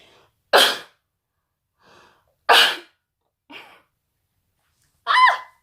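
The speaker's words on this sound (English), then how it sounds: "excuse me, I need to sneeze" A few sharp breathy bursts spaced a couple of seconds apart, like a sneeze building up and releasing, with soft breaths in between, close by.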